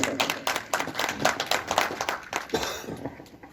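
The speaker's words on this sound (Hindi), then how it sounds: "गोविंद जी, आपका स्वागत है तालियों के साथ।" Audience clapping to welcome a guest at a Dainik State Samachar celebration event, a scattered run of moderately loud hand claps that thins and fades toward the end.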